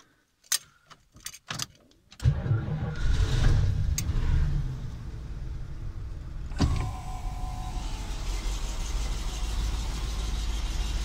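A Dodge RAM B250 van engine fires up after a few key clicks and choke attempts, then settles into a steady, rumbling idle close by, with no talk over it.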